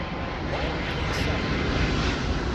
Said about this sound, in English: 777 flying in from London